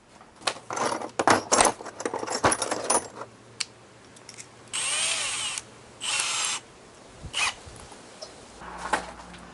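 A power drill whirs in several short bursts, drilling holes in car body aero panels, broken up by clattering and clinking of tools and small metal parts being handled.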